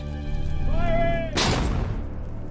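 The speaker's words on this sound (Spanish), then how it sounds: "Los disparos de la artillería canadiense comienzan de nuevo." Canadian artillery fire in a wartime battle scene, one sudden loud boom that cuts through a sustained tonal sound and then rumbles away, with a voice heard beforehand.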